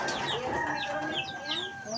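Chicks peeping in their box, a run of quick, high, thin chirps close by over a busy background of other birds and farmyard noise, with voices faintly underneath.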